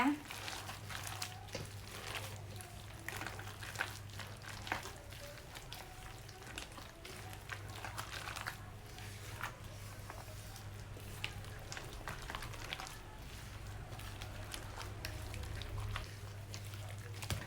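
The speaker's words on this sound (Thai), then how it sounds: "ขยำคลุกเคล้าให้เข้ากันดีเลยนะคะ" Hands squish and knead mashed banana and coconut into glutinous rice dough, a continuous soft wet crinkling and squelching at close range with faint background hum, no speech.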